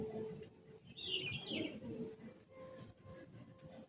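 Madrasi high flying pigeons coo in a soft, low, repeated murmur near the microphone, with a brief brighter chirp partway through, over steady background noise.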